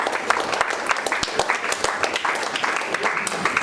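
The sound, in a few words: audience applauding the word of God in a church service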